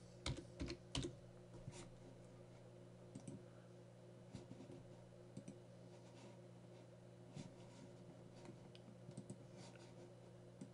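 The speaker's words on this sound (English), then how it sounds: "And you can start typing their last name." Keystrokes on a computer keyboard during data entry in Access 2010, bursts of quick clicks early and scattered taps later over a steady low hum, fairly faint and with no talk.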